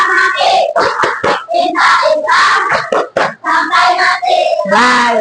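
A group of children in a classroom chant the 'tepuk anak soleh' clapping rhyme in unison, loud and close, their voices punctuated by sharp, rhythmic hand claps.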